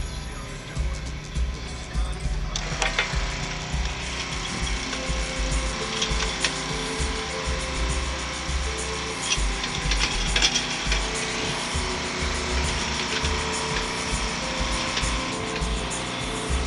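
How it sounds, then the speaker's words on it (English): A Jeep's winch hauls a fallen mango tree upright after a hurricane, giving a steady mechanical whirring and grinding drone under a low engine rumble for the whole stretch, close and continuous, with no talking. "So let's see if we could winch it up with the Jeep winch."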